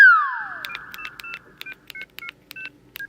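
Telephone dialing tones in a cartoon: a falling electronic sweep, then a quick series of short, clear keypad beeps in an uneven rhythm, close and alone with no talking.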